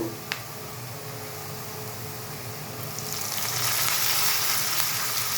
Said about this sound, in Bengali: দেখুন পেঁয়াজটা সুন্দর গোল্ডেন ফ্রাই হয়ে গেছে।